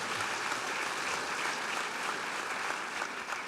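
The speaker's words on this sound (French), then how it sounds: "On peut vous applaudir, effectivement." An audience applauds at an agricultural trophy ceremony, a dense, even wash of clapping held steady throughout.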